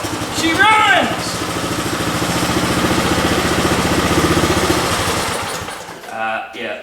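A revived rusty engine idles roughly, its steady loud pulsing chug holding for about five seconds before it sags and dies out, with a brief burst of other noise at the end.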